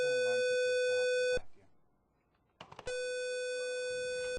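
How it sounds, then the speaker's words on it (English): A building fire alert alarm sounds as a loud, steady electronic tone with many harmonics, cutting off into near silence and then resuming after a few short clicks. "When you hear the alert alarm,"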